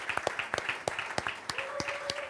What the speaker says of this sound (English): I want to ask for a big round of applause also for everyone in Porto and Lisboa.